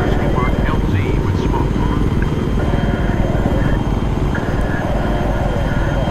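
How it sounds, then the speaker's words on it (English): A military helicopter lands in the video game Battlefield 3, its rotor and engine a loud, steady thrumming drone that fills the whole clip, with faint game sound effects over it. "Land this helicopter, oh no."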